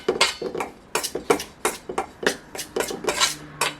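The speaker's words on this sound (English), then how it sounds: "I'm just going to use my little knife I use for leveling off the flour" A small knife stirs flour in a mixing bowl for a lavender rhubarb cake, giving quick, irregular clinks and scrapes against the bowl that come close and fairly crisp for a few seconds, with no talking.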